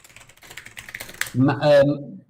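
Quick computer keyboard typing taps in a steady patter, then a voice talks over the tail end.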